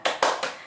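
A classroom doing the rhythmic 'tepuk semangat' clapping, three quick sharp claps close by, the middle one loudest.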